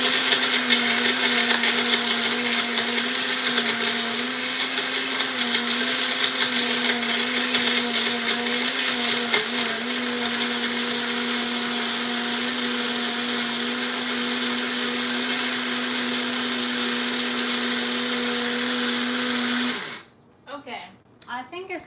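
A kitchen blender runs loud and close with a steady high whine for about twenty seconds, then cuts off, followed by a few brief clattering handling sounds.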